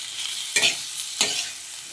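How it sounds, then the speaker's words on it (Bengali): Sliced onions frying in a pan give a steady close sizzle, broken by two quick scraping stirs about half a second apart. "পেঁয়াজ দিলাম, পেঁয়াজ দিয়ে এবার একটু নাড়িয়ে নেব।"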